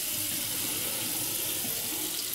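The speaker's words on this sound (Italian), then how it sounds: "Adesso aggiungiamo acqua." Water runs steadily from a tap into a bowl, a continuous hissing splash with no pauses, close and fairly loud, while shaving cream is being prepared.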